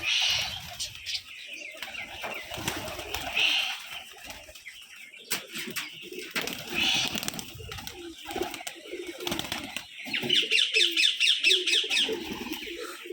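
Giribaz pigeons at a pigeon farm in Rajshahi coo repeatedly with soft, throaty rolling calls and occasional chirps, near and fairly clear, ending in a quick run of rhythmic coos.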